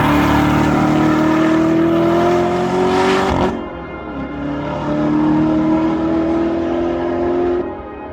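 A 2019 Chevrolet Corvette ZR1 with its 755-horsepower supercharged 6.2-liter LT5 V8 roars loudly under hard acceleration, rising in pitch, briefly dropping off for a shift, then pulling hard again with a steady strained howl.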